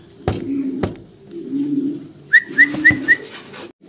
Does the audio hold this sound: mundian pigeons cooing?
yes